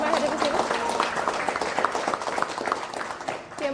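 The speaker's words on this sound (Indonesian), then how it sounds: "boleh tepuk tangan yang paling meriah untuk kita semua yang hadir di sini" An audience at an Indonesian seminar applauds itself in a lively burst of clapping with scattered sharp claps, while voices and crowd murmur run beneath it and the sound eases slightly near the end.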